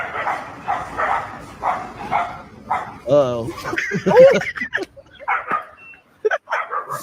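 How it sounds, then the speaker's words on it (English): A dog gives a couple of sharp barks and yelps, close and loud, mixed in with excited voices talking over it. "Get that damn dog away from me."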